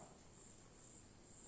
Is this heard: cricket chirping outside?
yes